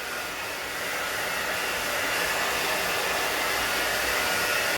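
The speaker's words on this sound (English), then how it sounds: "You can heat it with a hairdryer or a torch or whatever." A hair dryer heating peel-and-stick floor tile blows continuously at full power, a steady loud rushing whoosh that holds for several seconds and cuts off abruptly at the end.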